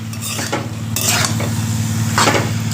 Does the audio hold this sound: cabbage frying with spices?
yes